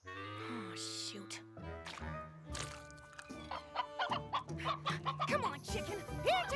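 A cartoon chicken clucks in short bursts amid a busy animated scene, mixed with music and other effects, with a voice calling out at times.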